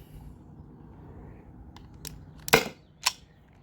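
Byrna SD launcher fitted with a KMotor performance adapter firing, a sharp pop with a short hiss, then a second weaker pop, preceded by light clicks over quiet outdoor background.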